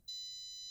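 A steady, piercing high-pitched electronic tone from JBL Wave Beam 2 earbuds' finder function sounds continuously after a brief quiet start, thin and shrill, with nothing else audible.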